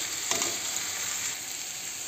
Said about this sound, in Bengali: একটু হালকা একটু ভাজা করে নেব